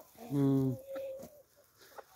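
A big Lohmann Brown chicken lets out one loud, drawn-out squawking call close by, followed by a few quieter scattered sounds.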